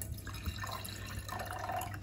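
Dark Spanish red wine, a Monastrell from Casablanca Torre Oria 2019, drips with soft, close liquid drops over a low steady hum during a tasting.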